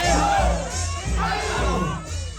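Crowd at a Muay Thai bout at the Chiang Mai Championship cheering and whooping in loud, continuous waves of voices, with a steady low rumble of the arena throughout.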